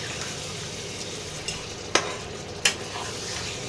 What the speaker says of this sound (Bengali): চিকেনগুলো একটু তেলে ভাজা ভাজা করতে হবে